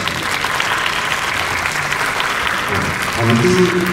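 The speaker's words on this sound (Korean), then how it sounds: "객석에 계신 시민 여러분들은 큰 박수로 맞으시길 부탁드리겠습니다" Sustained crowd applause from an audience at a citizens' architecture seminar at Korea Build in Busan, steady throughout, with a faint voice or tonal sound creeping in near the end.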